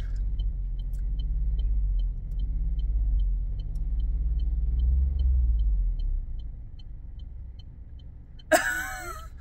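A broken-down 4x4 gives off a deep, steady engine rumble for several seconds that gradually fades. A brief, brighter scraping burst comes near the end.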